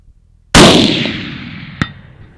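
A loud muzzleloader shot fired from a TC Encore at a steel target 500 yards away: a sharp blast with a long decaying tail, then a brief faint metallic ping of the distant impact about a second later.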